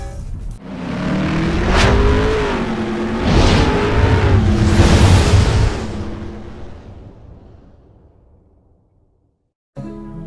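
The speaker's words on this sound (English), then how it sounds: "right now I am behind the wheel of the top spec Hyundai Stargazer GLS Premium" A Hyundai Stargazer GLS Premium MPV accelerates hard with its engine revving up through several gear changes, loud and close from inside, then fading to quiet before a brief sound returns at the end.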